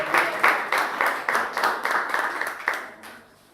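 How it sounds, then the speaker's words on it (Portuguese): Church congregation clapping in praise of the Lord, a rhythmic burst of claps in steady beats, moderately loud, fading out over the last half second. "aplaudindo, a glorificar ao Senhor"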